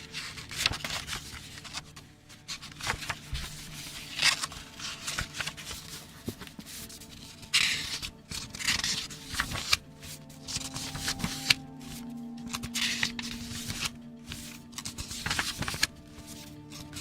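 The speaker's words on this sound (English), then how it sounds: "Also up next is page turning." Crisp paper rustles and flips in repeated bursts, close up, with soft handling noises between turns and a low steady hum underneath.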